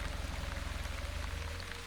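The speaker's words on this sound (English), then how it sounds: "we're getting some rain" Rain falls steadily outdoors, forming small puddles, a faint, even hiss of drops with a soft rhythmic patter throughout.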